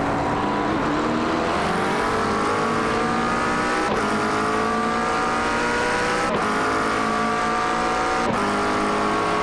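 Simulated McLaren 720S GT3 race car engine at Jerez in iRacing, a loud, continuous howl climbing through the revs, with crisp gear shifts cutting in about every two seconds.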